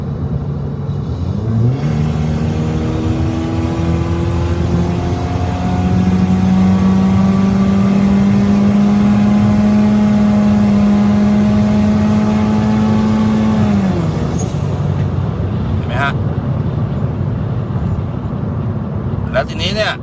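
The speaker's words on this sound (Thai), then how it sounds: "เดี๋ยวมาดูช่วงเร่งแซงก็จะอยู่ประมาณ101" A turbocharged Honda Civic FB with a modified turbo catalytic converter accelerates hard to overtake at about 101 km/h, its engine drone climbing steadily in pitch for several seconds before easing off, loud and continuous inside the cabin, with a few clicks at the end.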